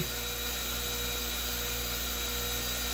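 An OMP Hobby M4 RC helicopter runs on a bench with main and tail blades removed, giving a steady, high-pitched motor whine at around 5,000 RPM that holds constant and close throughout.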